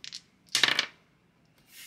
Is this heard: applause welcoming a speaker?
no